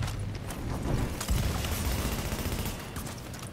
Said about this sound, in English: Shot grenade going out.